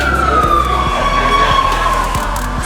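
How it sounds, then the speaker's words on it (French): An ambulance siren goes by on a street in Thailand, a loud wailing tone that slides slowly downward as it passes close, over heavy traffic rumble. "C'est la 5e, ah non, 6e ambulance qui passe en 5 minutes."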